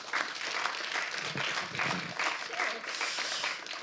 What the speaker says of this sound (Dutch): Dames en heren, een applaus voor Corien Raats.